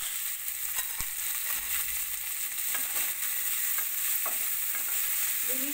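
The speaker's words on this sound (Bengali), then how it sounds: "ভাজাতে দেখুন এবার ফুলকপিটা লালচে লালচে হয়ে এসছে, আলুটাও লালচে হয়ে এসছে।" Cauliflower and potatoes sizzle in hot oil in a pan, a steady, fairly loud hiss throughout with a few faint clicks of stirring and no voices.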